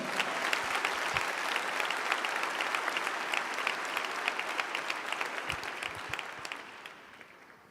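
A church congregation applauds during a worship service, with loud, dense clapping that holds steady for several seconds and then fades out toward the end.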